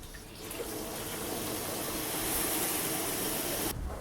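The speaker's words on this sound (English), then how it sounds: "So, let's put some water in this beast." Water gushes steadily into the tank of a spray box mounted on a 2013 Ford Ranger with a Utemaster load lid, a loud, continuous hissing rush that cuts off abruptly near the end.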